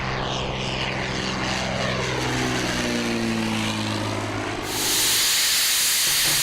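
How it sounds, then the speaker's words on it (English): Propeller aircraft at Columbia Airport in Tuolumne County, with a loud, close engine drone whose pitch sweeps down as the plane passes, then gives way to a steady, roaring hiss of wind and engine. "I'm here at Columbia Airport. It is one of 2 airports in Tuolumne County"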